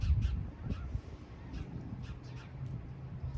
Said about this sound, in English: I like hearing the birds in the background.